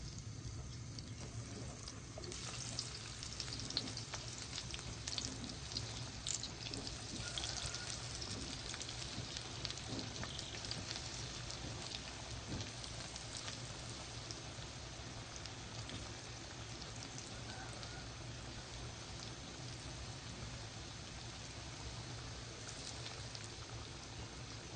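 Potato finger chips frying in hot oil, a steady dense sizzle and bubbling crackle that holds level and continuous from start to finish with no talking.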